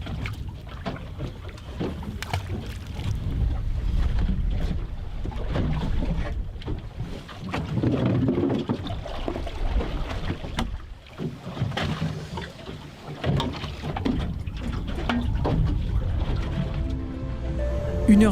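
A boat motor drones steadily on the sea off French Guiana with wind buffeting the microphone and splashing, the noise continuous and fairly close throughout.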